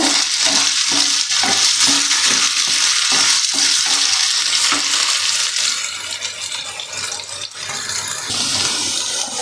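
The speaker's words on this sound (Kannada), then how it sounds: "ಇವಾಗ ಕ್ಯಾರೆಟು ಮತ್ತು ಆಲೂ ಚೆನ್ನಾಗಿ ಫ್ರೈ ಆಗಿದೆ" Carrots and potatoes stir-frying in a pan for vegetable Hakka noodles, with a steady loud sizzle and rhythmic scraping of a spatula, close up and with no talk.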